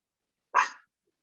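A single sharp, close dog bark in an otherwise silent room, heard alone.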